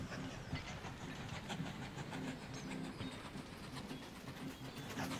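A train in the Mashinky railway-building video game: a quiet, steady rumble with hiss and faint rhythmic clatter, continuous and distant with no voices.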